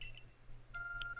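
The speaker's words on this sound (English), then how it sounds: "Your phone is beeping." A few quiet electronic beeps sound in short bursts, thin tones against a low steady hum.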